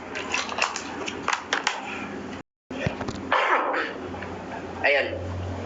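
A person mid-lecture coughing and clearing their throat in several rough, abrupt bursts, with a short silent gap partway through and speech around the coughs.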